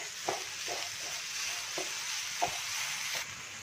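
Grated coconut and jaggery are stirred in a pan, a soft, fairly quiet sizzle with several light scraping strokes spaced unevenly and one brief louder knock near the end.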